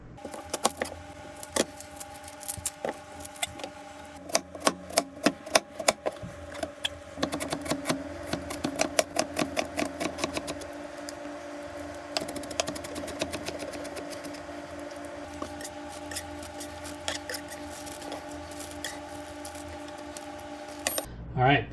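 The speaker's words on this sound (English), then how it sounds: "I'm going to need to cut up an onion" A knife chops an onion on a board in quick runs of sharp taps, sometimes dense and sometimes sparse, over a steady humming background.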